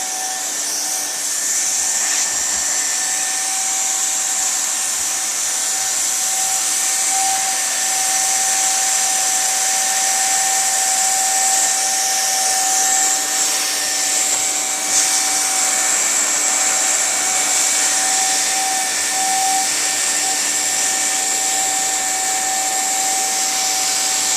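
Steady welding hiss on a split boot skirt, seamed in the field as the skirt is welded down, holding a constant broadband roar with a high whine and fixed tones for about twenty seconds, loud and unbroken, with no talk.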